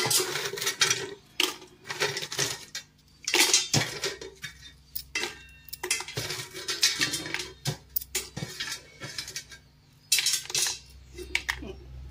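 Lid being put on a steel container of fried papads in a home kitchen, with a busy run of metallic clinks, clatters and scrapes of dishes and lids, fairly close and continuous.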